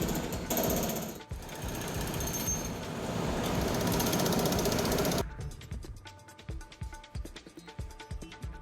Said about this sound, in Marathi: पोलीस बंदोबस्तात पोकलेन जेसीबीच्या सहाय्याने ही इमारत केडीएमसी कर्मचाऱ्यांनी हातोडा मारत कारवाई सुरू केली आहे